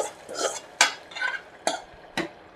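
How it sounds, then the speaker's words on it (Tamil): Curry leaf, mustard seed and cumin tempering poured from a small pan into aviyal, giving a few sharp metallic clinks and scrapes of utensil against pot, with brief stirring in between; close and fairly quiet, no talking. "இப்போ வந்து தாளித்து வச்ச கருவேப்பிலை, கடுகு, ஜீரகம் போட்ட தாளிச்சதை அவியலில் ஊற்றிடலாம்"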